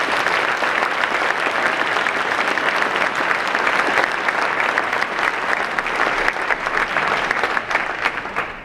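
Panel discussion audience giving a speaker a round of applause: dense, sustained clapping from a sizeable crowd, steady and loud throughout with no talking over it.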